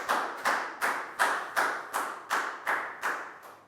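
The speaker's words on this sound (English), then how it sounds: "a big round of applause for Pak Bung" Rhythmic group clapping from a primary school class during a science lesson, about ten sharp, evenly spaced claps in quick succession, close and loud with no talk over it.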